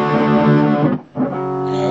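An electric guitar played through a teal Peavey Bandit 112 combo amp rings out with thick distortion, a sustained chord that briefly cuts off and is struck again, loud and close.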